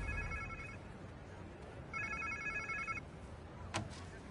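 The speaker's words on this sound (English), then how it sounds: "Sounds like somebody's phone." A phone rings in the Spider-Man 2 video game, with two bursts of electronic trilling separated by a pause, fairly faint over a low ambient hum, followed by a brief sharp click near the end.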